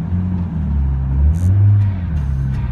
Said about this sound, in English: Get the window down a bit so we can hear the exhaust.